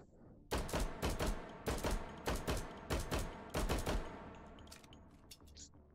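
Rapid bursts of pistol fire from a video game crack out in quick clusters, loud and close, with short gaps between volleys and no talking over them.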